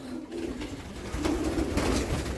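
Soft, low pigeon coos murmur in short repeated phrases, close by, over a steady background hum.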